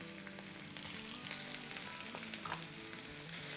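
Crushed ginger and green chillies fry in a pan with a steady, close crackling sizzle and a few faint stirring scrapes throughout, no voices.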